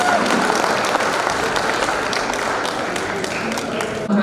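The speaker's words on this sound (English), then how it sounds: "once again a great round of applause for both our panelists" Audience applause for the panelists at a Rotaract panel discussion, a dense, steady wash of many hands clapping continuously throughout, fairly close and loud with no clear talk over it.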